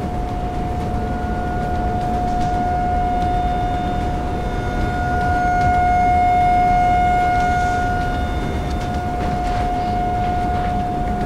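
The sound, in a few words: tornado warning sirens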